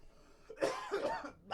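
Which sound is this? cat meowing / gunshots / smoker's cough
smoker's cough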